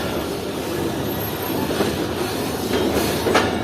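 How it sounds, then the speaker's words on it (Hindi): An express train pulls out of Hyderabad Junction railway station, a steady loud rumble of rolling cars with rhythmic wheel clatter and brief high squeals toward the end, no voices. "तो तकरीबन 5 मिनट रुकने के बाद ट्रेन डिपार्ट कर रही है हैदराबाद जंक्शन रेलवे स्टेशन से"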